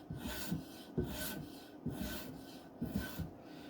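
Knife blade drawn along a radiused polymer strop during sharpening of a recurve knife, giving soft rhythmic rubbing strokes roughly every half second to second, close and fairly quiet with no talking.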